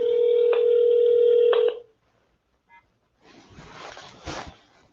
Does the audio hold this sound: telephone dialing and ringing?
yes